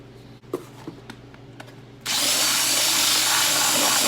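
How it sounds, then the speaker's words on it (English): A power drill suddenly starts halfway through and runs loud and steady with a harsh whine, after a few quiet taps and knocks, while fitting a tail tidy to a Suzuki DR650 motorcycle. "Drilling."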